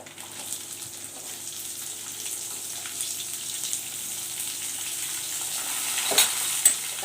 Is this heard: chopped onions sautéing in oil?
yes